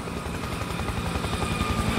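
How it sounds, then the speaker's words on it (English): In the video game Spec Ops The Line, a helicopter approaches across rooftops, its rotor making a loud, steady rhythmic thumping with a continuous engine roar underneath, alone and close. "Slow up. Incoming helo."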